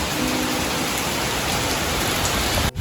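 A sudden downpour falls on green fields under cloudy skies, a steady, loud hiss of rain with no breaks until it cuts off briefly near the end.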